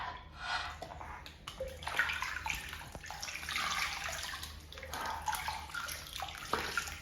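Water pours and splashes steadily into a baby's bath at about eight weeks old, a continuous close wash of running water with small splashy bursts throughout.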